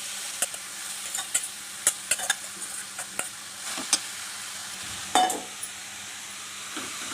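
Grated carrots sauté in hot ghee for gajar halwa, a soft steady sizzle broken by repeated scrapes and clinks of a spoon stirring in the pan, close and fairly quiet.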